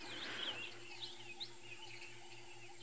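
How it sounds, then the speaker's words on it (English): Several birds call and chirp at dawn on a safari drive, bright scattered tweets rising over a steady low engine hum, moderately faint and without talk. "You can hear all the different bird calls."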